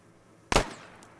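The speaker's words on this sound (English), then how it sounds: "Clayton, could you shoot me once in the foot" A single sharp gunshot in a military video game cracks close and loud, then decays into a brief tail, alone with no talk.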